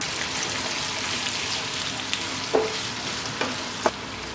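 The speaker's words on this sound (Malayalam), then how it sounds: "നമുക്ക് ഈ ചിക്കൻ വറുത്ത എണ്ണയിലേക്ക് നമ്മൾ അരിഞ്ഞു വെച്ചിരിക്കുന്ന ക്യാപ്സിക്കം എല്ലാം ഒന്ന് വഴറ്റിയെടുക്കാം" Chopped capsicum sautéing in hot oil left from frying chicken in a pan, a steady soft sizzle with a few sharp crackles and pops near the end.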